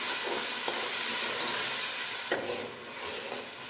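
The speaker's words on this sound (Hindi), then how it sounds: "अब हम इसमें लहसुन, अदरक, हरी मिर्च और टमाटर का पेस्ट ऐड कर देंगे। इसको अच्छे से भून लेंगे" Garlic, ginger, green chilli and tomato paste frying with onions for potato and eggplant curry, a dense steady sizzle and hiss close up, with faint stirring scrapes breaking through now and then.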